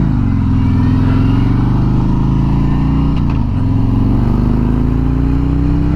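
A 2020 Harley-Davidson Road King Special cruiser motorcycle being ridden, its deep engine rumble loud and steady throughout, with a brief dip and shift in pitch midway as the rider changes throttle.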